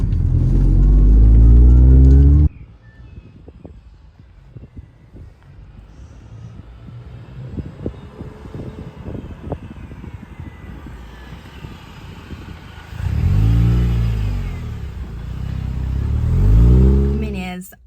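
A MINI R53 engine drives as a daily car: a loud low drone rises at the start, drops away under a stretch of talking, then swells again in two rising pulls near the end.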